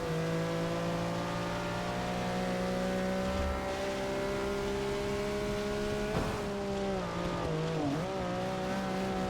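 A Ferrari 330 P4 race car engine drones steadily at high revs during a wet-weather race in Forza Motorsport 6, with brief pitch dips as it shifts gear or brakes near the end.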